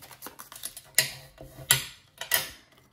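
A paper card is scored along its fold lines in a run of sharp, crisp clicks and scrapes, with three louder strokes standing out against light tapping and no voices.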